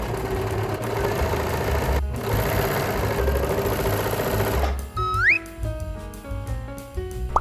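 An overlock serger trims a 0.5 cm seam allowance while stitching the seams of a checked pajama top, a steady close mechanical whir running for about five seconds before stopping, followed by brief unrelated tones.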